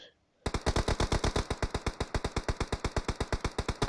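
Rapid bursts of video game machine-gun fire during a competitive match, a fast steady rhythm of close, loud shots running continuously after a brief quiet start.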